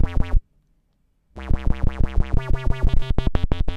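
Rhythmic synth tone run through the AudioDamage Grind filter, its sawtooth LFO sweeping each note into a rising, clipped wah; a burst of pulses, a second of silence, then a fast steady train of loud pulsing notes alone.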